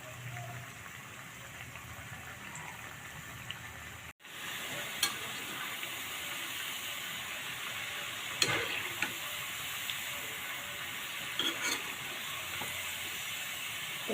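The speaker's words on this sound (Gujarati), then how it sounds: "તો આપણે ધીમા ગેસ ઉપર આપણે તરીશું." Colocasia leaf rolls (patra) frying in oil over a low gas flame, giving a steady close sizzle throughout with a brief break partway, occasional crackles and pops.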